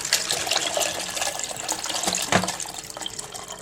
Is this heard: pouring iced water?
yes